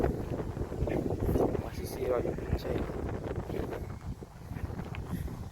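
Strong wind gusts buffet the microphone outdoors in a rural vegetable garden, a constant rough roar under a voice.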